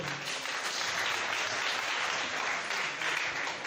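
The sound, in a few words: applause adopting the agenda by acclamation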